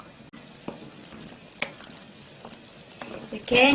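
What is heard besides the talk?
perilla seed and glutinous rice porridge cooking, stirred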